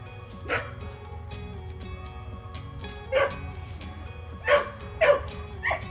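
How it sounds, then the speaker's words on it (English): A dog barks several times in short bursts at a moderate distance, with a steady low hum underneath and no talking over it. "What are you barking at, sir?"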